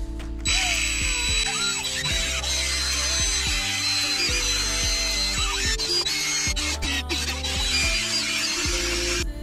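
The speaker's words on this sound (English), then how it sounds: "you can use it on the drill to clean this off without actually damaging the aluminum" Drill spinning a plastic wire wheel against an aluminum transmission bell housing, a continuous high whine with rattling, chattering contact scrubbing throughout, close and steady.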